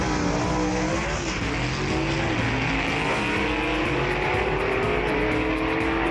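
Gasser drag race car launching hard off the line at a Southeast Gassers event, with a loud, continuous engine roar that climbs in pitch and fills the whole stretch, no voices over it.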